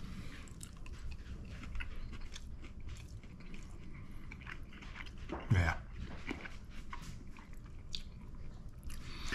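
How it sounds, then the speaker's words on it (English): Someone bites and chews Captain Crunch crusted striped bass, close soft crunching and chewing under a quiet room tone, with one louder burst midway and a brief spoken word. "Captain Crunch crusted striped bass."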